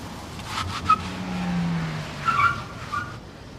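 Car driving fast on a rain-wet road, tyres skidding and squealing briefly amid low engine and road noise, with a short sharp screech or two near the end.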